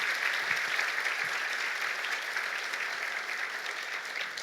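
Steady, dense applause from a large church congregation indoors, continuous and fairly even throughout, heard from a little distance.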